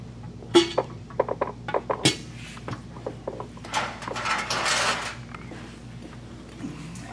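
Ratchet tightening bolts into a heavy aluminum Banks transmission pan on a 2024 Duramax with a 10-speed transmission, giving quick bursts of clicking with metallic clinks, close by and without talk.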